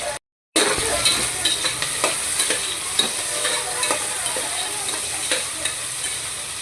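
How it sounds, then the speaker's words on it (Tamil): Onions sautéing in hot ghee in a home kitchen for tomato biryani: a loud, steady sizzle and hiss close by, with occasional scraping stirs of a utensil against the pan after a brief silent gap at the start. "வெங்காயம் நல்லா வதங்கட்டும்"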